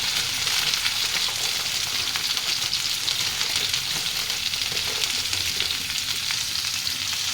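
Ivy gourd pieces frying in oil for a pachadi, a dense close crackling sizzle that runs steadily without pause, no voices over it.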